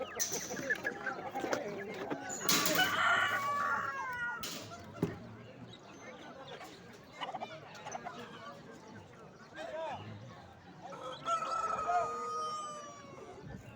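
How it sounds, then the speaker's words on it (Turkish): Three hens and a rooster cluck and squawk with occasional crowing-like calls amid farmyard noise at a poultry market in Konya, while people talk in the background. "Evet burada 3 tavuk bir horoz"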